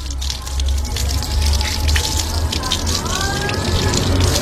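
Water from a tap gushes steadily and loudly over an overhead fishing reel held in place for rinsing, a continuous close splashing with a faint voice beneath it.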